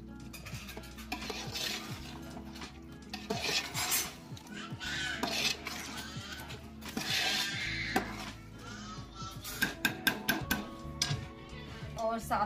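Potatoes being stirred into a pan of cooked masala with a spoon, producing repeated scraping and clattering against the pan under a low sizzle, busier toward the end with sharper knocks.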